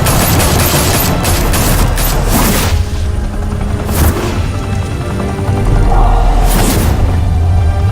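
Loud, dense gunfire and booming blasts in a Batman video game, sustained bursts of shots and explosions filling the whole stretch with little pause, no talking.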